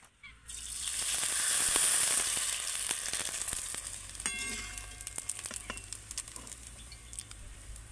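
Rice flour papad fries in hot oil with a loud, dense sizzle that swells early and then breaks into crackling pops and patter, heard close with no talking.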